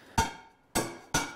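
Three sharp hammer blows ring out on the edge of a hand-forged steel skillet during a cold pass, each strike bright and metallic with a short decaying ring, spaced unevenly and heard up close without talk.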